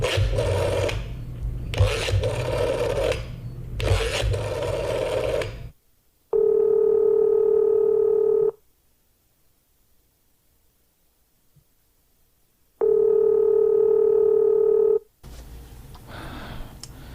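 A telephone in a shop gives a steady electronic tone in two separate bursts with silence between, after a stretch of rough scraping noise, and another rustling sound follows at the end.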